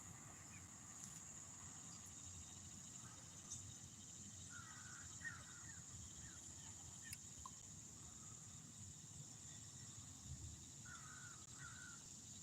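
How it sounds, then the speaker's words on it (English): A crow caws outdoors in a few short clustered bursts at a moderate distance, against a quiet steady hum with faint insect chirring. "I heard one of my crow buddies out here calling."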